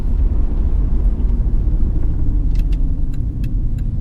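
A 1998 Audi B5 S4 Avant with Neuspeed tuning on a road test gives a steady low engine and tyre rumble from inside the cabin, with a few faint rattles or clicks near the end.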